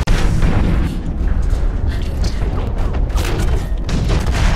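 A grenade explosion in the PC mech shooter Hawken, in beta, lands amid a constant, heavy, rumbling barrage of battle booms that never lets up.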